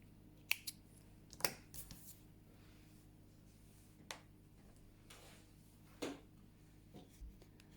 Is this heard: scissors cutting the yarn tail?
yes